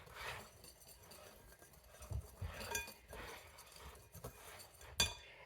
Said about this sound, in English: Blend it like super good because you want all that flour, salt, baking powder, apparently sugar incorporated.